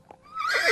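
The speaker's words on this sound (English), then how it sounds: "Suddenly, the horse neighs." A horse gives a single short, rising neigh that swells loud by the end, heard close and alone without speech.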